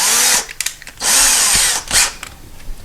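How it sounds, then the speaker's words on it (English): An electric screwdriver drives screws to mount window blind brackets, whirring in two longer bursts and a short final one, close and fairly loud, with brief quiet gaps between. "But in this case, we do have the screwdriver, so we're going to use it."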